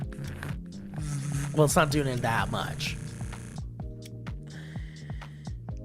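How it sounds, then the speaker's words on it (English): A Quip electric toothbrush hums with a low, steady pulsing buzz throughout, mostly under a person talking, then running more plainly near the end. "Here's a simulation of using a Quip toothbrush."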